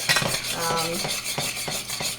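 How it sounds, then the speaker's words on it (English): Fudge boils in a pot with a continuous bubbling sizzle, broken by the regular scrape of a utensil stirring against the metal, close and fairly loud with no talking. "it's boiling really good right now"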